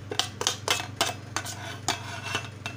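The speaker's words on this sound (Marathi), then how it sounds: "तर प्रथम मी कांदा घालत आहे एका टोपामध्ये" Onion being tipped into a cooking pot while making a Malvani-style curd koshimbir salad, heard as about eight sharp, close metallic clinks and taps of a spoon against the pot in an irregular rhythm, with no talking.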